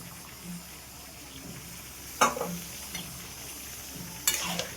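Boiled bean seeds tipped into a pan of cooking vegetables, giving two short bursts of sizzling and stirring over a quiet, steady kitchen background, with no talk.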